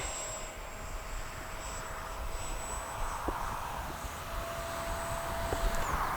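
Freewing L-15 RC jet flying at full speed, a faint, distant, steady whine carried over open-air background noise for the whole stretch.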